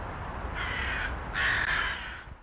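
Crows caw as a sound effect, two loud, harsh calls in quick succession over a steady background hiss.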